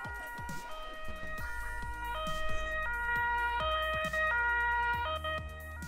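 Police car siren in the Emergency 4 video game, a loud two-tone wail alternating steadily between high and low pitches over engine rumble and repeated dull thumps, with no talking.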